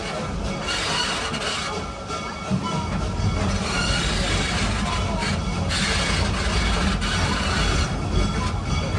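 Busch Gardens Serengeti Express park train rolling steadily along with continuous rumbling wheel and car noise, loud and unbroken, with faint distant voices.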